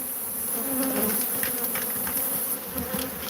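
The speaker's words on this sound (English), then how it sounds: "All the wild, feral, unmanaged hives in Arizona are killer bees." A feral, unmanaged killer bee hive in Tombstone, Arizona gives off a loud, constant buzzing drone, a thick close hum with no speech.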